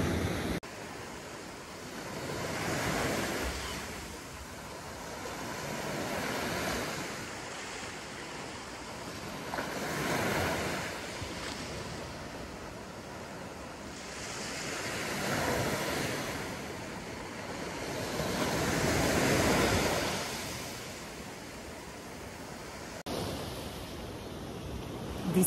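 Surf rolls onto a beach on the Costa Brava in slow, regular swells, each wave rising and fading over several seconds, with steady wind noise on the microphone and no voices.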